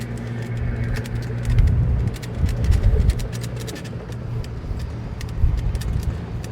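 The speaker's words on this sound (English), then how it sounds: "And here's the free taxi ride." A free taxi ride in AlUla, Saudi Arabia, heard from inside the car as it drives along a road: a low steady engine hum and road rumble with a few swelling surges and scattered light clicks.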